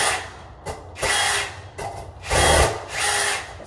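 Electric screwdriver whirring in short bursts as it undoes screws on a household consumer unit, several separate runs of buzzing motor close by with brief pauses between them, no talking.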